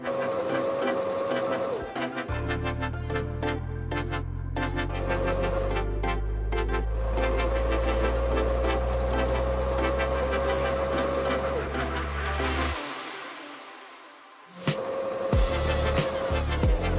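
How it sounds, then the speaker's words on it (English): A sewing machine stitches a sweatshirt with a steady, fast mechanical whir and clatter that runs for about ten seconds, then stops briefly and starts again, under a person talking. "now we got the sewing machine set up and ready, and we just have to start sewing"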